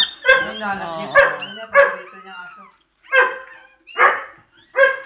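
A dog cries and yelps during tail docking at home: a series of loud, close, wailing whimpers and yelps in repeated bursts separated by brief pauses.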